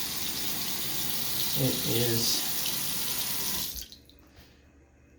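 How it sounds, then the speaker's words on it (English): Water is poured into a clogged bathroom sink that drains slowly, a steady rushing splash that dominates before cutting off abruptly, with someone speaking briefly over it. "If you come and look at this sink, if I pour water in there,"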